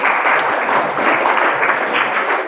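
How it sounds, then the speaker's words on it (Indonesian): Steady, dense applause from a school audience at a religious moderation outreach event, honouring Nusa Putra, holding evenly for a couple of seconds with no pauses. "Tepuk tangan untuk Nusa Putra."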